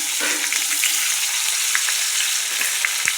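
Onions sizzling in hot oil with a bay leaf and a dried chili, a steady close frying hiss broken by occasional spits and stirring taps throughout.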